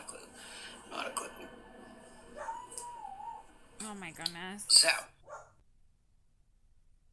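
A dog indoors barks and howls at someone outside, a drawn-out howling bark with a whimpering edge rising to a loud peak near the end, while a person speaks briefly before it.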